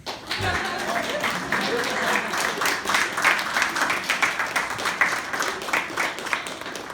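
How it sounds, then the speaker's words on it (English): Applause from an audience at a college talk on autism, steady dense clapping that fills the room for several seconds at moderate level, with faint voices mixed in beneath. "If you want to applause, go ahead"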